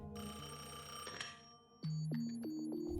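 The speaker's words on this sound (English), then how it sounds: "his black landline was constantly ringing off the hook" A black landline telephone rings in loud, bright bursts that repeat, with no voices.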